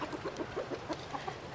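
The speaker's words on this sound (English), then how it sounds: "Salmon Faverolles. These are a purebred flock with 2 roosters and 9 hens." Purebred Salmon Faverolles flock of two roosters and nine hens clucking in a steady scatter of short, overlapping calls, close by and moderately loud, with no one talking.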